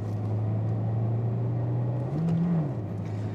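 A Honda CR-Z hybrid coupe with a six-speed manual gearbox runs with a steady low engine hum, then briefly rises in pitch as the revs climb and settles back, faint and without talk.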